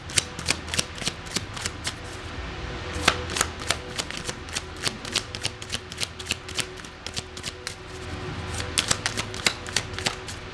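Tarot cards shuffled and drawn from a deck in a reading, with steady crisp flicks and snaps close up over a faint low hum, no one talking.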